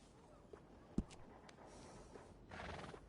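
Horse in the video game Red Dead Redemption 2 gives a short, fairly faint whinny and snort over soft game ambience, with a brief sharp knock and a breathy burst later.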